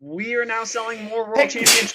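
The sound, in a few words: sneeze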